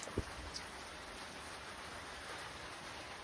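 Steady, soft rain hisses evenly throughout, with a couple of faint taps near the start and no voices.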